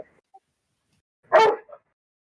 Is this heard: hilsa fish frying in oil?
no